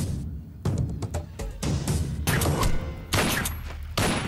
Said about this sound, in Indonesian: Ajay menembak Vero yang sedang tidur di kamarnya